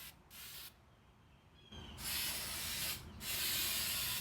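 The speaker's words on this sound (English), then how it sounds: "This can really isn't spraying it great" A spray can lays a textured coating onto a dashboard in short hissing bursts, faint and close, with brief pauses between the sprays and a longer, stronger hiss toward the end.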